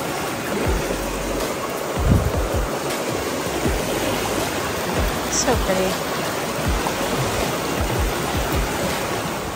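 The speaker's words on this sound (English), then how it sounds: "We've been hiking next to this creek or river, crossing it on these cool bridges every once in a while." A creek flows beside a hiking trail on the Foothills Trail, its steady rushing babble close and constant while footsteps thump now and then and a voice speaks briefly.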